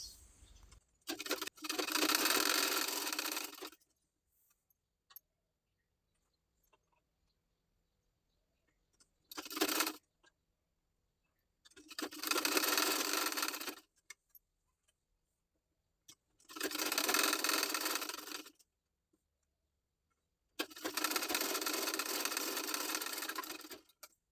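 A sewing machine stitching the shoulder joint of a girl's top, running in five separate bursts of rapid whirring needle action, each a few seconds long, with near silence between runs, close and clear.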